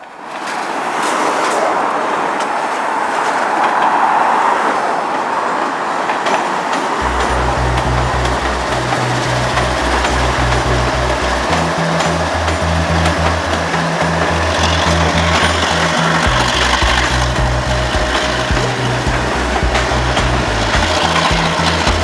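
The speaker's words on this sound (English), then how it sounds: "This is a freight train that is working the yard." A Norfolk Southern outbound manifest freight train led by an older Dash 9 locomotive rolls out of Inman Yard, its loud, steady diesel roar joined by deep pulsing engine notes and continuous rumbling wheel noise nearby.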